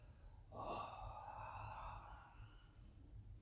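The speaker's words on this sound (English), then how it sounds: "So I inhale" A deep, slow inhalation through the nose during a morning breathing warm-up, starting with a sharp intake and then drawing out softly. It is close and quiet, with no talking.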